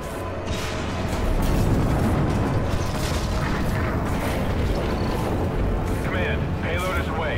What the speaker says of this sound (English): Command, payload is away. We have a successful launch.